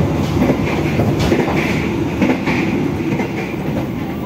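Inside a Jaka Tingkir new-generation economy-class train running at low speed, a loud steady rumble of wheels and rail fills the carriage, with faint rhythmic clatter and no talk.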